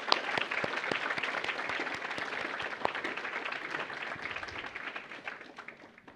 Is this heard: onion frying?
no